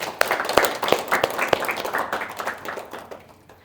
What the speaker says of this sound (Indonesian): Betul ya, kita kasih aplaus.